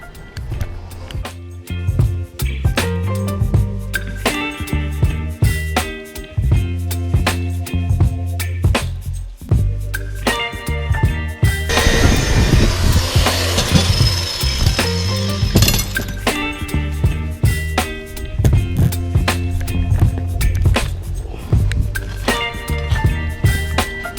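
Metal parts for a Catalina 30 sailboat's solar and lithium battery installation are worked against a grit polishing wheel, giving loud, close clattering and scraping contact with a denser continuous grinding burst midway.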